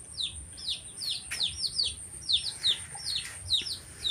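Free-range chicks cheep in a rapid stream of high, repeated calls, with a hen clucking now and then underneath, close by in an outdoor yard with a faint constant hum behind.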